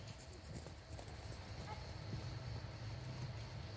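A horse canters on a riding surface during a flatwork schooling session, with rhythmic hoofbeats thudding under continuous ambient noise, and a rider or instructor speaking faintly.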